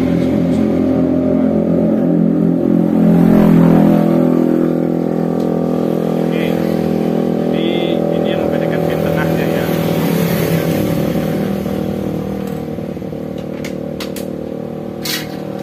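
A race-type motorcycle engine revs loud and close, holding a thick, sustained roar that swells slightly early on and then eases off a little toward the end.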